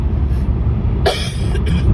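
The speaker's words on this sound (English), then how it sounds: "And the cough is still there." A single short cough bursts out near the microphone, standing above a steady low rumble of traffic or passing train noise outdoors near a glass bridge.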